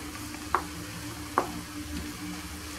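Kefta and vegetable filling with parsley being stirred briefly in a pan before the heat goes off: a quiet, continuous low sizzle broken by two light utensil clicks.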